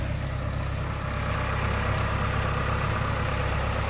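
A Farmall Super A tractor engine runs in a steady, continuous low rumble, close and even, with no break across the short stretch.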